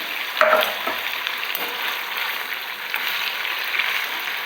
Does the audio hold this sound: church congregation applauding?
no